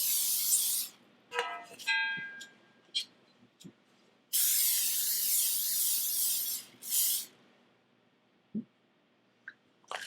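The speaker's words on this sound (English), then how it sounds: "I'm going to spray my pan." Several bursts of olive oil aerosol spray hiss out onto a cake pan, two long sprays and a few shorter puffs, with small clicks and clatter between them.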